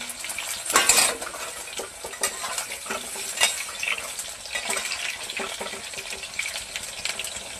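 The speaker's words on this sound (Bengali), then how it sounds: "একটু ভেজে নেবো আলুগুলো।" Potatoes frying in oil in a pan, a continuous close sizzle with frequent scraping and clinking of a spatula stirring against the metal.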